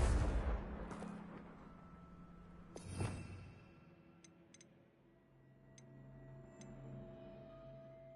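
A Confringo blasting spell bursting in Hogwarts Legacy on PS5: a loud, broad explosion at the start, then a second sharp blast about three seconds later, each fading into a low rumble with faint ticking behind.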